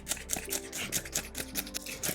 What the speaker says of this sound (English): made of plastic and you can cut it with your scissors